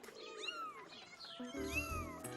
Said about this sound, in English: Caillou was frightened by the angry cat.